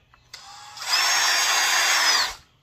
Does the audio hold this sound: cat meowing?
no